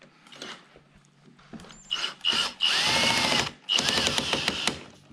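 A power drill backs screws out of trim on a C7 Corvette, with several short whirring bursts that rise and fall in pitch, followed by a longer steady run close by. No one speaks.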